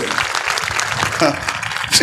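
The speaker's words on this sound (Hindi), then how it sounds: "ताली मारो तो हाँ बजाई तो भल कर मारो तेज" Audience at a church meeting clapping steadily throughout, a dense patter of applause with voices mixed in.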